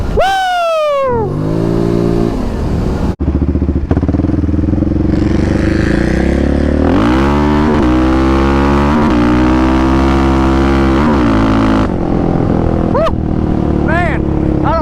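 A Polaris Sportsman XP 1000 ATV engine revs hard during a ride, its pitch climbing and falling through repeated accelerations, loud and close, with a rider's shouts mixed in.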